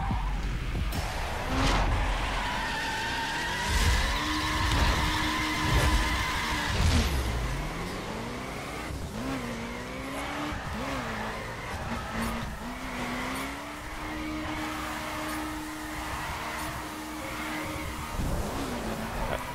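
A Subaru drifts in the racing game The Crew, its tires squealing in long wavering screeches through repeated slides, with the engine revving and rising between turns, close and steady throughout.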